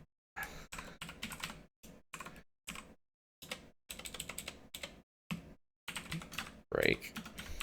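Bursts of computer keyboard typing, brisk clattering keystrokes in short runs separated by silent pauses, close and fairly loud, with a brief voice near the end.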